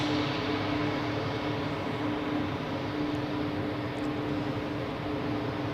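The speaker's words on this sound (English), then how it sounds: "here we have a Swiss A220 for a change, not Helvetic now. Going to Venice." A Swiss Airbus A220 airliner rumbles at Zurich Airport, a faint steady engine drone with a low hum, heard from a distance without talk.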